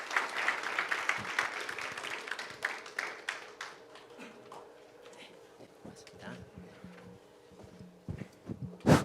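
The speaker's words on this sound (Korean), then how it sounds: "조선이공대학교 송지현 교수님을 박수로 환영해 주시면" Applause at a policy forum in a city council hall welcomes Professor Song Ji-hyun of Chosun College of Science and Technology, a brief round of clapping that fades into scattered claps, shuffling and a few voices.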